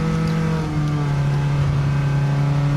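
A Toyota S-FR engine holds a steady mid-pitched drone as the car drives through S-curves on a cone course, close and continuous with a slight rise in revs.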